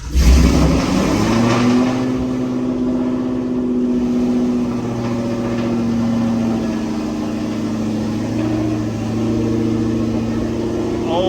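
A Gen 2 Coyote 5.0 car with an extremely loud aftermarket exhaust revs up and then holds a droning, rumbling note, close and loud, with a sustained mid-pitched tone wavering slightly over the clip.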